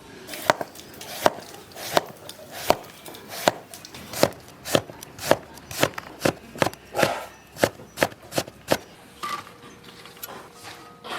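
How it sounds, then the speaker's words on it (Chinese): A knife chops eggplant into small pieces on a cutting board, giving a steady run of sharp, close thuds at an even rhythm with no talk. "把茄子切成点儿。"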